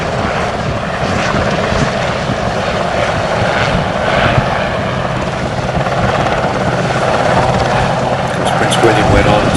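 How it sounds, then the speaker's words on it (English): A helicopter flying at an air show, a loud continuous rotor and engine roar with steady chopping texture, heard close and unbroken, while a voice talks over it. "now you can see one of the principal roles of this particular helicopter"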